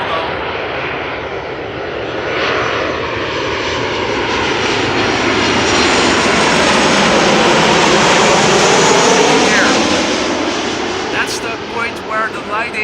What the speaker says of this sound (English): 737 arriving from Madrid, KLM flight 1700.